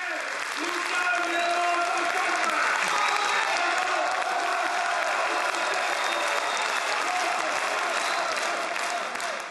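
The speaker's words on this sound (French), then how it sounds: "la foule l'acclame, l'ovationne" A crowd at a political rally in France breaks into sustained, dense applause with scattered cheering, filling the whole stretch at a steady, loud level.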